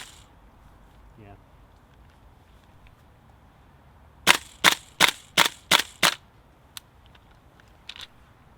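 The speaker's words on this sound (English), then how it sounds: "So completed the mag, locking back on empty. All with just regular propane on this weather." A Tokyo Marui M4 MWS airsoft rifle running on propane gas fires six sharp, evenly spaced cracking shots in quick succession, followed by a couple of fainter mechanical clicks as the bolt locks back on the empty magazine.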